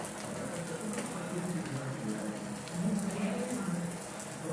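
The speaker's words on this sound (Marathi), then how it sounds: "आता हे तयार झालेला पराठा टाकून घेणार आहे तव्यावर।" A rajgira paratha cooks in ghee on a hot griddle, giving a soft, steady sizzle and light crackle, quiet and close, with a slight swell partway through.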